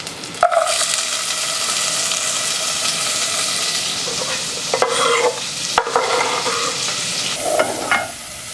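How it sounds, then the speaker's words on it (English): Onions sizzle steadily in a pan of leftover bacon grease, a close, continuous frying hiss broken by occasional stirring scrapes and clinks, with no one talking. "now we want to add the onions. I left in probably a tablespoon of bacon grease."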